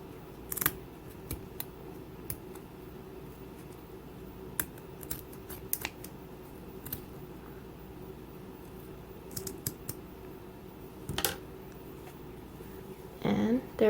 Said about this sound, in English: now you are just going to cut all of your loops here at the bottom